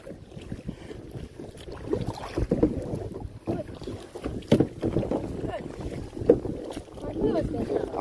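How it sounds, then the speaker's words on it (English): Kayak paddle strokes splash and swish through water at a steady rhythm, with wind buffeting the microphone throughout, in Austin, Texas. "Just a little Saturday afternoon paddling."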